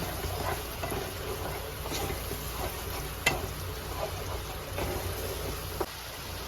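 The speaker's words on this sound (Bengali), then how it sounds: "এবার ভালো করে মশলাটাকে কষিয়ে নেব" Spice paste with Kashmiri chilli powder and a splash of water frying in a pan for a jackfruit curry, a soft steady sizzle with occasional faint scrapes and two small knocks of the spoon.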